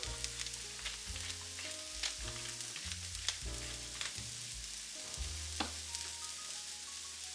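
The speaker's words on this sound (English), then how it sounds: "you could begin to hear the sizzle of the water evaporating" Steady crackling sizzle of mushrooms frying in a hot pan with thyme and pepper, water evaporating, with soft scraping and stirring and occasional sharper pops, close up and without talk.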